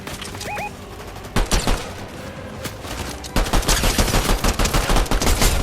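Colt pistol fire in Fortnite zero build battle royale: single sharp shots, then dense bursts of rapid gunfire from several weapons crackling close and loud, with no voices.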